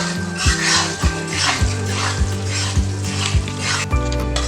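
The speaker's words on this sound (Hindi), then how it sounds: "ये गोल्डन ब्राउन होने तक हम इसको इसमें भूनेंगे।" Moong dal roasting in a pan until golden brown for moong dal halwa gives a steady close sizzle, with a spoon scraping through it in regular strokes about every half second.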